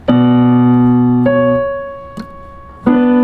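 A piano plays a slow passage of a theme from La La Land, bright single notes and chords struck close and left to ring and fade, with four distinct attacks.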